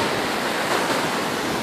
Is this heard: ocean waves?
yes